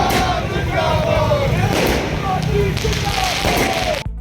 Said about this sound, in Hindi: भाजपा कार्यकर्ताओं ने आज पिथौरागढ़ नगर के सिलथाम में जमकर आतिशबाजी की